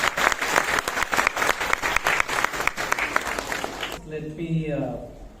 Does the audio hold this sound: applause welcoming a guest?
yes